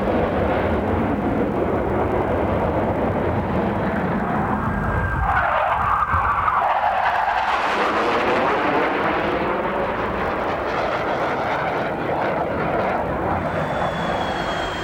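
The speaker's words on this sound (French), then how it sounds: "Et on vole sur des F-18, les avions les plus performants du monde" An F-18 jet roars past at demonstration speed, a loud continuous engine blast that swells and shifts pitch as it sweeps by, with no voices over it.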